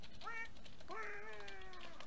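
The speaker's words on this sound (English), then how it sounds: "It sounded like a cat." A cat meows twice in the Minecraft modpack Crazy Craft, one short call followed by a longer, drawn-out meow, clear over a faint background hiss.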